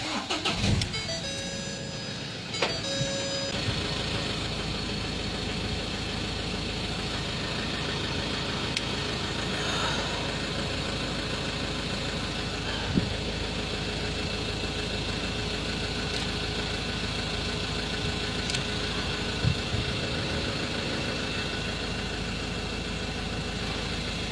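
A Ford Ranger 2.2 TDCi diesel engine cranks and catches, then settles into a steady, even idle that runs on alone for over twenty seconds, close and continuous.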